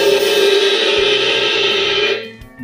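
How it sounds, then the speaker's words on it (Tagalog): The bell of an 18-inch crash cymbal rings out with a bright, sustained metallic ping, decaying steadily before cutting off near the end; no voices. "Yung bell niya."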